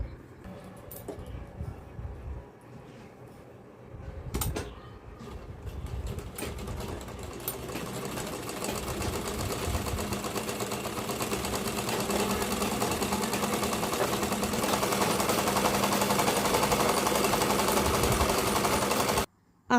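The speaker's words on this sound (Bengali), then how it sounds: "আজকে এটা আঁচলটা আর কোল আঁচলটা সেলাই করবো" A sewing machine stitching a sari's aanchal runs in a steady rapid whir and clatter, starting unevenly with brief pauses and then running continuously and more loudly before cutting off abruptly.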